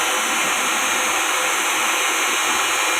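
A purified water processing machine runs just after being switched on, giving off a loud, steady broadband whoosh like rushing air with a constant high whine, close and unbroken.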